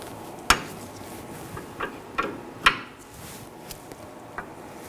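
A 17mm wrench breaking free the jam nut on a front inner tie rod of a 2013-2019 Nissan Sentra, a few sharp metallic knocks and clicks spaced apart over a quiet background, close, no talking.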